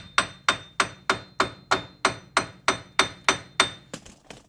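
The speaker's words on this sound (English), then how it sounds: "I try and hammer into the sides or the side back" A hammer striking around the front wheel bearing of a Hyundai Santa Fe, about a dozen sharp, evenly spaced metallic blows with ringing decay, close and loud, with no talk.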